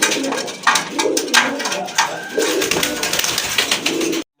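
A domestic pigeon, a Miligora breed bird with red bar markings, coos amid other birds, with overlapping calls and bird chatter continuing steadily, close and fairly loud, cut off abruptly at the end.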